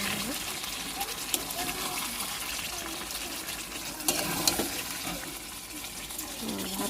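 Water pours steadily into a cooking pot of rice on the stove, a continuous close splashing and rushing for several seconds, with a little kitchen clatter in the background.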